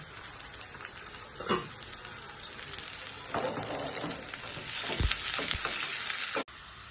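Shallots and curry leaves fry in coconut oil in a continuous close sizzle, with occasional pops and stirring scrapes and a sharp knock near the end.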